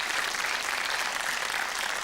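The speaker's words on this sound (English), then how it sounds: "6 applause, I think, for you two guys there." Steady, dense applause from a TV studio audience on a 1990 Yorkshire TV game show, sustained at an even level throughout without breaks.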